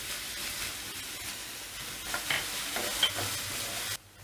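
Chopped onions and green chili sauté in a hot pan with a steady, close sizzling hiss and occasional stirring scrapes, ending abruptly.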